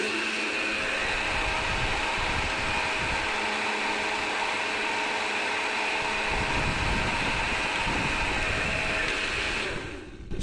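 Blender grinding baghrir batter made only with semolina, a steady loud whirring drone that runs throughout without pause, with no voices over it.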